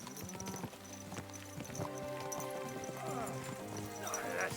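Horse hooves clip-clop in a steady rhythm while riding in the video game Kingdom Come Deliverance 2, with music and ambient sound underneath.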